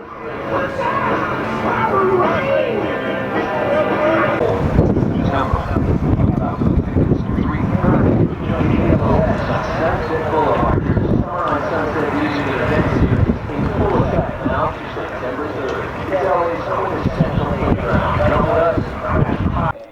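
Strong wind buffets the microphone in a constant heavy roar at a BMX race track in Hesperia, California, with faint voices and shouts mixed in underneath.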